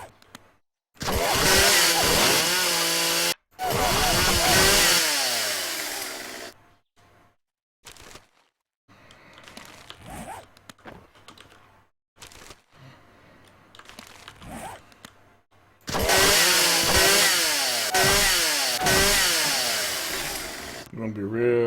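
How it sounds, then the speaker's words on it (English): Chainsaw revving in the game 7 Days to Die, loud raspy bursts of several seconds separated by quieter stretches of softer mechanical noise, with a long roaring burst at the end. "I'm going to show you, my friends, what a chainsaw can do."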